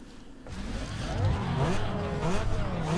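Race car engines in NFS Underground 2 drone and rise through gear changes during a street cross race, a steady near roar with rising pitch sweeps and no talk over it.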